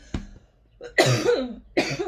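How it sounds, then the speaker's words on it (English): A few harsh coughs close up, one short burst followed by two heavier, raspy coughs in a quiet room. "I'm trying not to cough on camera"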